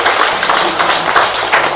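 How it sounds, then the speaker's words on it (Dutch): A small group claps at a band's first CD presentation, with steady, dense clapping throughout the short moment and no talk over it. "Wij klappen alvast even om jou aan te doen"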